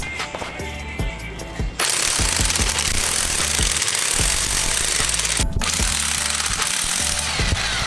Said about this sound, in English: We're gonna start by taking this first bolt off.